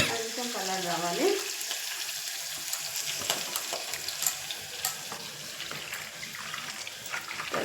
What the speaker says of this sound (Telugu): ఇది కొంచెం వేగుతాము, కొంచెం కలర్ రావాలి.